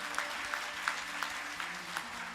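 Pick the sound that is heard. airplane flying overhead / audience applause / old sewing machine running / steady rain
audience applause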